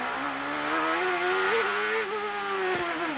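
A Ford IndyCar engine in a 1997 Champ Car race at the Gold Coast screams at high revs, a loud steady wail with small pitch wobbles and a quick dip near the end.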